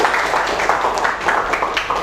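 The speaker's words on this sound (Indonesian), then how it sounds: "beri tepuk tangan sekali lagi." A school class applauds together in a room, with steady, dense clapping that rises and falls in short waves. Scattered voices show faintly underneath.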